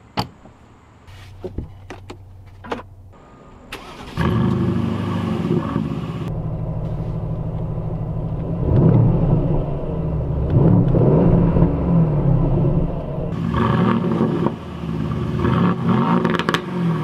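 A 2020 Aston Martin DB11 Volante V8 fires up after a few clicks, catching with a loud burst, then settling into a deep idle broken by several strong revs, heard close and alone.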